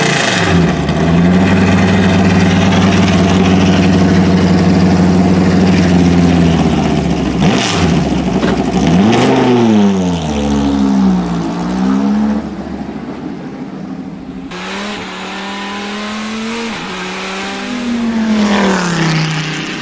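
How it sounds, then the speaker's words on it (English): Dodge Viper GTS-R GT1 race car with an 8-litre V10 and a Hollinger straight-cut sequential gearbox, loud and close, revving hard through upshifts with rising and falling engine pitch and gear whine, no talk. "Orca fitted the GT1 Viper GTS-R with a heavy-duty Hollinger straight-cut sequential gearbox"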